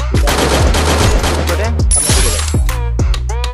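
Rapid loud gunfire from a shooting video game fills the stretch, a dense burst of shots followed by single sharp reports. A headshot is landed, and faint voice sounds sit beneath the shots.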